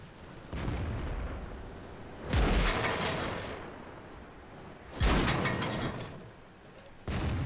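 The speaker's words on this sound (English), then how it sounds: "Ricochet" A World of Tanks T32 takes shell ricochets at Prokhorovka, heard as three sharp, loud metallic impacts. Each impact rings out and fades over a steady rumbling engine drone, with no talking.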